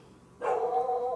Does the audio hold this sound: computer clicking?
no